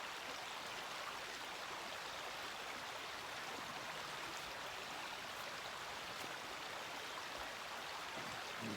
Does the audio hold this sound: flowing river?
yes